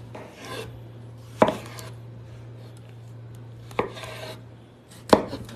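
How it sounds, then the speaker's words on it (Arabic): Vegetables are chopped into four pieces, with a few sharp, close knife strikes spaced well apart and brief scraping between them over a low steady hum. "نقطع الخضروات 4 قطع زي كذا."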